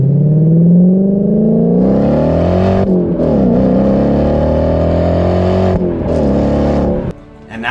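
An Imola yellow Audi B6 S4 with a V8 engine revs loudly and close, pitch rising and holding through several sustained pulls with a brief dip between them, then cutting off sharply near the end.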